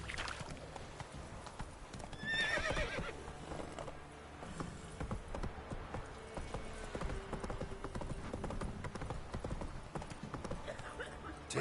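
A horse in the Witcher 3 game moving at pace with steady clip-clop hoofbeats and a short whinny early on, fairly quiet, with a voice speaking briefly.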